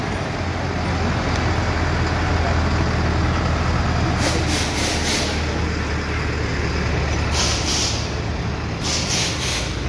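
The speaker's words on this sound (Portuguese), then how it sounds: "O caminhão tá ligado." A truck engine runs steadily on a blocked street in Arapiraca amid road traffic, with loud bursts of air brake hiss around four and seven seconds; traffic noise stays dense throughout.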